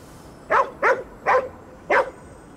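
Dog in the video game Ghostwire: Tokyo gives four short, clear barks in an even rhythm, close and alone with no talk.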